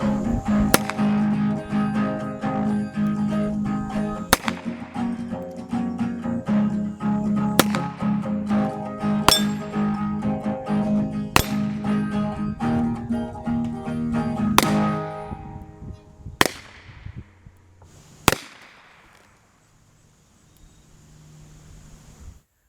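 H&R Premier .32 S&W revolver fired outdoors, about nine sharp shots at irregular intervals of one to three seconds, loud and close over a steady background hum that fades at the end, no voices.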